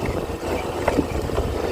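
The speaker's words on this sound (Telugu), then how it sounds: "బేబీ నేను కలిసి స్కూటీ మీద వెళ్తున్నాము" A scooter rides along a hill road, its engine a steady low drone mixed with heavy wind rumble against the microphone, continuous and close.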